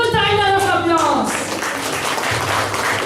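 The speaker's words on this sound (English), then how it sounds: "Welcome them with a huge round of applause" A school show audience of parents breaks into a broad wash of applause to welcome young children onto the stage, loud and sustained, with an announcer's voice and a musical tone fading out at the start.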